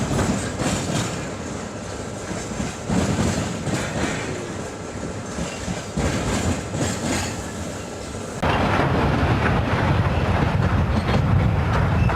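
A diesel locomotive rolls past with a steady, loud rumble and rail clatter, broadband noise swelling and shifting as the cars go by, close to the track, with no voices.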